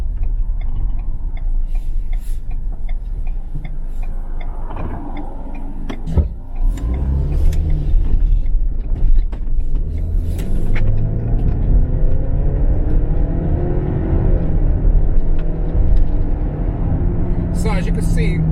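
A 2021 Ford Explorer Limited 4WD with a 300-horsepower engine pulls hard in sport mode, its engine rumbling low and steady over road noise inside the cabin for the whole stretch, with a few brief clicks and a voice talking.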